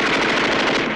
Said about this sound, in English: Why wouldn't you want a hip-fired, slow cycle rate machine gun?